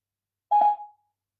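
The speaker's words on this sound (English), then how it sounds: "Let's get Mark on the phone" A smartphone placing a call during an online community drama club session gives a single short electronic tone, clear and close, fading out quickly with no talk over it.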